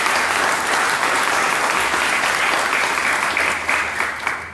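An audience applauds at a community center's grand opening, a broad, sustained burst of clapping from a sizable crowd that holds steady and then thins slightly at the end.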